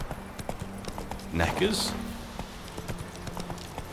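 Hooves of Roach, Geralt's horse in The Witcher 3 on Deathmarch difficulty, clip-clop in a steady gait across the whole stretch while someone talks over the steps.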